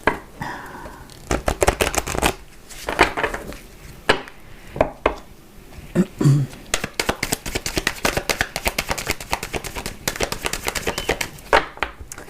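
A deck of cards is shuffled and cut by hand for a Capricorn astrology tarot reading, giving quick riffling bursts and soft slaps that repeat throughout, close and fairly loud with no talk.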